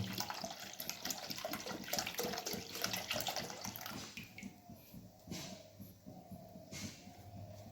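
Milk being poured into an already heated wok while making payesh, a soft continuous liquid pour and sizzle, steady at first and then thinning into intermittent splashes; faint and close.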